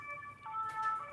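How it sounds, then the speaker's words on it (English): Fire engine and police sirens wail in Paris, with steady tonal lines that step between pitches, fairly faint and distant over the background hum of the city. "You can hear the fire sirens have been in permanence."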